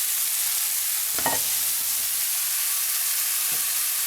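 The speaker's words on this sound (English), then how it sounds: "you can hear from the sound of the sizzle, it'll change when it starts to get overdone" Porcini mushrooms sizzle steadily in a frying pan, a soft continuous hiss with a brief stirring scrape and another faint one later, heard alone at close range.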